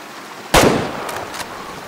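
A single sharp rifle shot from the hunting game theHunter cracks loudly and rings out with a short decaying echo, followed by faint distant report-like thumps.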